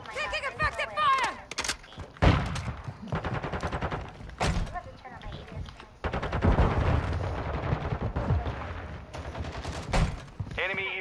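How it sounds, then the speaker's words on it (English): Rapid gunfire rattles through a Team Deathmatch round in a shooter video game, with sharp single cracks and automatic bursts going off near and far, while voices and game callouts talk over the action. "Taking effective fire!"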